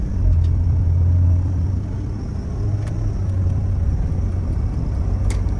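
A car drives along a road in the UAE, a steady low engine and tyre rumble heard from inside the cabin, loud and continuous with slight swells and no talking.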